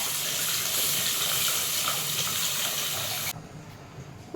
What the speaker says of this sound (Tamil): மிளகாத்தூள் இப்போ புளி கரைச்சி வச்சுருக்கேன். இதை சேர்த்துக்கலாம்.